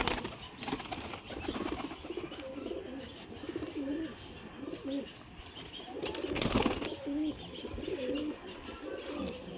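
Pigeons coo in soft, repeated phrases close by, including a sick one, with bursts of wing flapping breaking in partway through.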